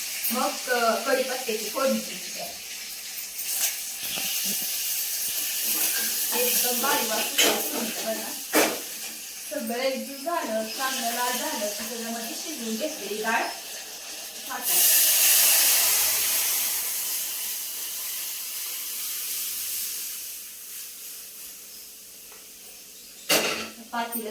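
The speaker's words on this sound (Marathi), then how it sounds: "मस्त अशी फोडणी बसली ना डाळीला" Hot spiced tempering of garlic and coriander hits cooked dal, bursting into a bright, loud hiss that slowly fades, after stretches of a person talking over faint kitchen noise.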